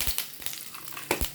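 Curry leaves fry in hot oil in a pan while a spoon stirs them, making short, close scraping and crackling bursts over a soft sizzle.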